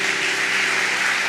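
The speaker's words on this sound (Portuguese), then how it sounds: "Quem pode aplaudir a Jesus por isso?" A church audience applauds, a dense steady wash of many hands clapping together at moderate volume, continuous for the whole short stretch with no voices over it.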